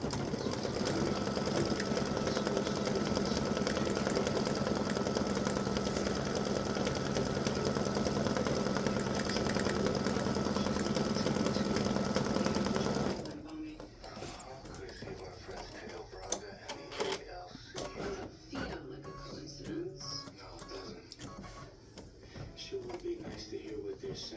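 A sewing machine stitches a fall wreath alphabet design in a long, loud, continuous mechanical whir that abruptly stops; afterward a person talks amid small handling sounds.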